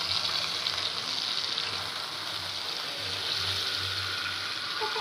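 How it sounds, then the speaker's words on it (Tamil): A large whole fish fries in a pan of oil, a dense, even hiss and bubbling that holds steady and close for the whole stretch, with no voices. "இப்போ நல்லா ரெண்டு பக்கம் ஃப்ரை ஆகிட்டு நம்ம அப்படியே திருப்பிக்கலாம்"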